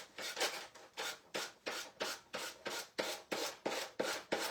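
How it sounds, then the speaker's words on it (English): Rhythmic rasping strokes of a small gator sander scraping decoupage paper against a wooden edge, about a dozen quick back-and-forth rubs at a steady pace, close and alone. "I'm going to take my little gator sander."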